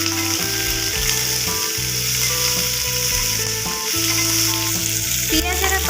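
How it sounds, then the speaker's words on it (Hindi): Chopped onions frying in oil with panch phoron for an Odia poi saga curry, a loud, dense, continuous sizzle close up with occasional stirring scrapes, no talking. "पियाजर कलर गोल्डन ब्राउन कलर हेबा पर्यंत हमें पियाज को भाजी कालिबा"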